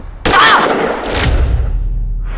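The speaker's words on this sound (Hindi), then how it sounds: "शूटर ने वहाँ से इनके ऊपर फायर किया हो" A sharp gunshot crack rings out, then a second loud burst, leaving a rumbling, echoing tail that lingers in the background.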